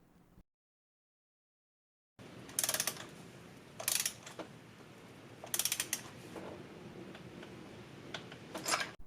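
A torque wrench tightening a spark plug on a 1992 Acura Legend, giving several short bursts of ratcheting clicks spaced a second or two apart, close and clear with a brief silent gap near the start.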